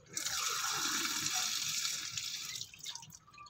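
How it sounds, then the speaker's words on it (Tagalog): Two glasses of water poured into a cooking pot on an outdoor farm, a steady splashing gush that runs for about two seconds, then tapers into lighter trickles and drips. "Tapos, lalagyan natin yan ng 2 basong tubig."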